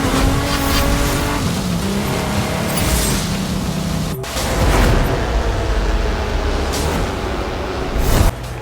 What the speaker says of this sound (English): this is a great vehicle that I'm going to get into, this Lamborghini Murcielago